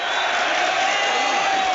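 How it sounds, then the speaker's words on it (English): Vocal football crowd at a Wrexham v Notts County match, a continuous, dense roar of many voices heard from a distance, steady and unbroken throughout. "A really vocal crowd today, as you would expect."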